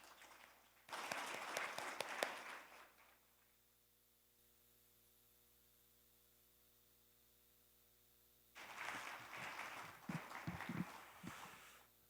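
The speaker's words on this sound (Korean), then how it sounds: "여러분 큰 박수로 환영해 주시기 바랍니다." Applause from a seated audience at the opening ceremony of a national library convention greets a government minister, two dense swells of clapping separated by a quiet stretch of mains hum, moderately distant in a hall.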